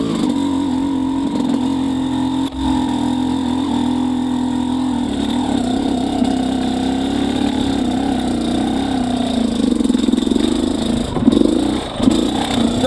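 Dirt bike fitted with a Lectron Billetron Pro 38 carburetor, its engine running steadily and loud, holding a droning note with small swells of revving throughout, no voices.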